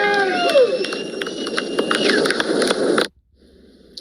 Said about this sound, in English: You can hear applause from people watching.